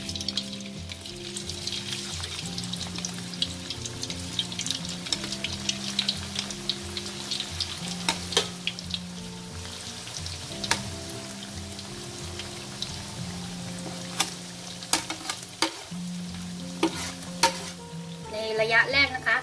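Shallots deep-fry in hot oil with a continuous bubbling hiss and scattered popping crackles like rain on a surface, close and unbroken, with a low hum underneath and no voices.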